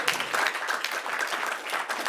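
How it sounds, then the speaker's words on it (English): A lecture audience gives a steady round of applause for the speaker, dense continuous clapping that fills the room from start to finish without any voices. "So can we give him another round of applause?"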